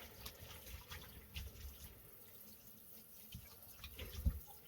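Ice cold tap water runs over raw bacon being rinsed at a sink, a soft continuous trickle with scattered splashes and drips, faint and close, no speech.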